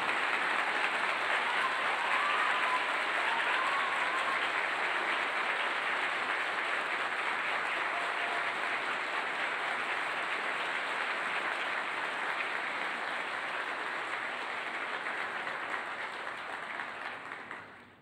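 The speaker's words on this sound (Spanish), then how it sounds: "Este aplauso es el reconocimiento a ese esfuerzo y a ese acompañamiento durante estos años" Audience at a graduation ceremony giving sustained applause, a broad, even wash of many hands clapping that continues steadily for the whole stretch before tapering off at the very end.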